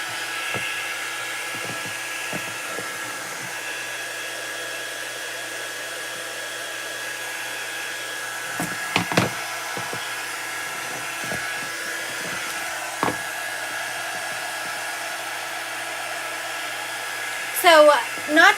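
A hair dryer blowing over glow-in-the-dark chalk paste on a craft project, a steady close whirring drone that runs unbroken for nearly twenty seconds, with a few brief clicks and squeaks toward the end.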